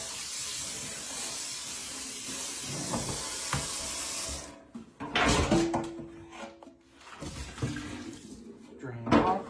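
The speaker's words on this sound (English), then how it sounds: "Add a little bit of water." Water is poured over a scrub brush while hot massage stones are cleaned, giving a hissing, splashing wash that gives way to sharper knocks and scrubbing sounds, with someone talking over parts of it.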